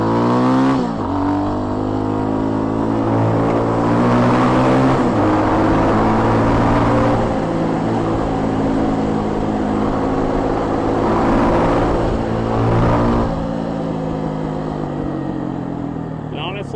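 A Hawk X 250 250cc motorcycle engine revs hard on a road, loud and close, rising and falling through repeated throttle pulls with steady engine drone between them.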